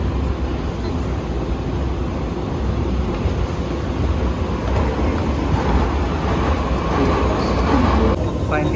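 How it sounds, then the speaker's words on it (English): A steady, loud rumble of a train in motion fills the space, with continuous low roar and faint rattling throughout. "Ghirardelli City train now boarding last morning run"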